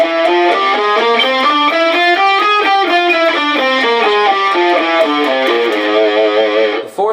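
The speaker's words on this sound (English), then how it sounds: "So the third mode is called Lydian Augmented, and that one goes like this." Distorted electric guitar runs a Lydian Augmented mode scale up and back down in steady, even notes, loud and alone, ending on a held note.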